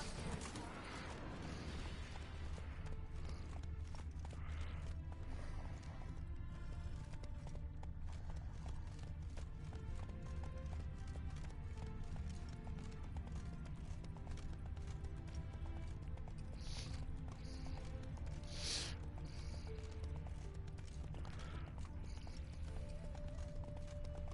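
Roach, Geralt's horse in The Witcher 3: Blood and Wine, with hooves clip-clopping steadily along a road, mixed with game ambience and occasional louder thumps.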